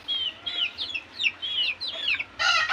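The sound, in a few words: chicken clucking while eating feed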